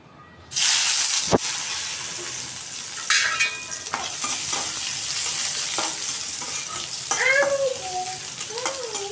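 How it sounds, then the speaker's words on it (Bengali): Dried chilies, garlic and onion hit hot oil in a wok and sizzle loudly and steadily, with a sharp utensil knock near the start and occasional scraping stirs. "আগে এই যে শুকনো মরিচ, রসুন আর একটু পেঁয়াজ এগুলো আগে দিয়ে নেব কড়াইতে।"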